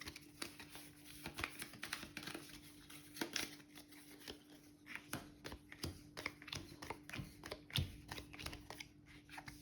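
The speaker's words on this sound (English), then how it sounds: "Shuffle them together." Morpho board game cards being shuffled together by hand, a quiet close string of soft riffling taps and flicks in irregular bursts.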